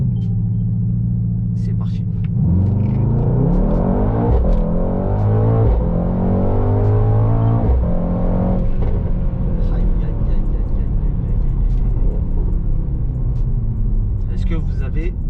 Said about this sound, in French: vous restez appuyé avec le pied gauche sur votre frein, vous appuyez à fond sur l'accélérateur